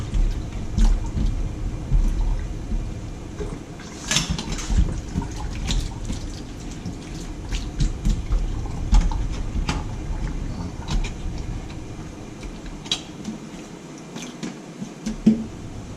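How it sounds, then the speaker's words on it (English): Water drains in a kitchen sink after cooking shrimp, giving a steady wash of trickling and gurgling with a few small clinks of dishes or utensils, continuing at moderate loudness for most of the stretch. "now you let the water drain."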